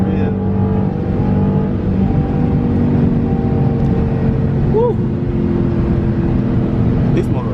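Dodge Scat Pack engine droning loud and steady throughout as the car accelerates, low rumble filling the cabin while a passenger whoops and people talk over it.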